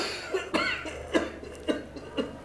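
A person with a persistent cough that has lingered for six months coughs repeatedly, four or five short harsh bursts spaced roughly half a second apart, close and fairly clear.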